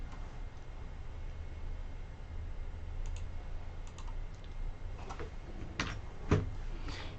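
Keys clicking on a computer keyboard while an essay is typed, sparse taps scattered over a steady background hiss with a few sharper, louder strokes near the end.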